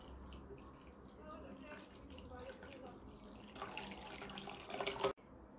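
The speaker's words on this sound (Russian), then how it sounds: "Теперь я все это заливаю кипяченой холодной водой." Cold boiled water pours over lemon and sugar in a container for homemade lemonade, a faint continuous trickling and splashing that grows stronger near the end before stopping abruptly.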